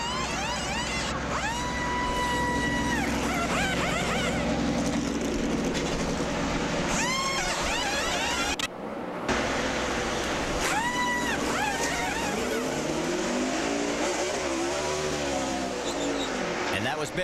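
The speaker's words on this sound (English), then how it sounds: "Here's the sights and sounds of the pit stop." A NASCAR pit stop heard from the crew's viewpoint: roaring race car engines rise and fall as cars pass, with a loud rumble, sharp air-wrench bursts and crew voices in the noise.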